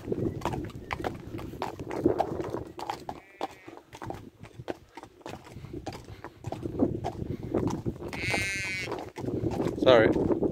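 Sheep bleating in an outdoor rural setting during a ride, a few short bleats cutting through steady clip-clop hoofbeats of a horse and background talk.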